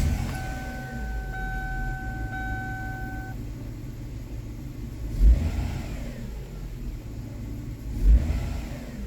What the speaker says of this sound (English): Let me shut it down and start it back up,